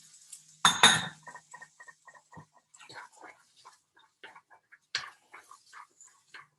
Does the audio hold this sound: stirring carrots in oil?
yes